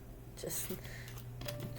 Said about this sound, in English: I will shuffle for some more cards